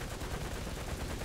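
Tank machine gun fire in the War Thunder video game rattles in a fast, continuous burst, loud and close, with no pause across the short stretch.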